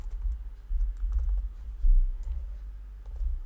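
Code being typed on a computer keyboard, with quick, close, light key clicks in short irregular bursts over a faint low hum.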